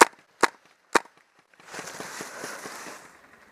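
Three crisp airsoft gun shots pop close by in quick succession outdoors, followed by softer rustling movement.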